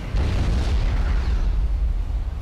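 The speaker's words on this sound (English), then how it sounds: "Are we getting hit by artillery?" Artillery or long-range missile explosions in the strategy game Supreme Commander: Forged Alliance, a dense continuous rumble of booms, loud and low, with no talk.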